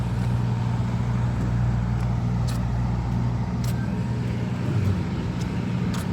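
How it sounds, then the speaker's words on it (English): A delivery truck supplying restaurants rolls past on a city street in Halifax's North End, a steady, loud low engine rumble with constant traffic noise that stays dense throughout. "There goes Tim Martin's truck supplying the restaurants with some coffee and all that stuff."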